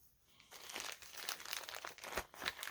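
A plastic bag full of paper words cut out of magazines being rustled and rummaged through, continuous close crinkling with irregular louder crackles, no voices.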